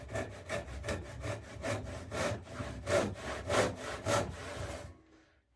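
A hand saw cutting wood for a workbench build, wide-kerf teeth rasping in a steady back-and-forth rhythm of strokes, close and fairly loud, stopping abruptly near the end.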